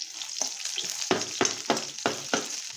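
Seven or eight cloves of crushed garlic and chilies frying in oil in a pan for a methi bhaji. A loud, continuous close sizzle, with rhythmic stirring scrapes repeating about every third of a second.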